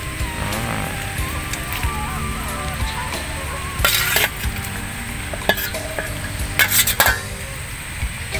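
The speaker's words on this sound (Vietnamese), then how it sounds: "bây giờ nước mắm của mình đã sôi nha các bạn" Fish and pork braise in a pot of boiling fish sauce, a steady close sizzle and bubbling with occasional metal utensil clinks and stirring scrapes against the pot.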